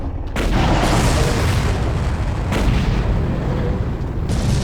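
Video game gunfire in Far Cry, enemies shooting at the player: a dense, continuous barrage of loud booming shots and bursts with no pauses and no speech over it.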